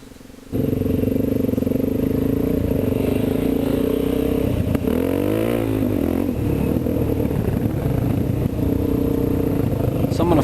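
A 610 dirt bike being ridden on a trail, its engine buzzing loud and steady from close by with clattering and scraping over rough ground and revs rising and falling partway through.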